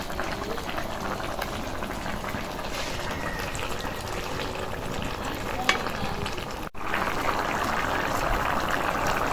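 River sand goby fish curry stirred in a pan, with a continuous bubbling simmer and soft scraping of the spoon, steady and close throughout.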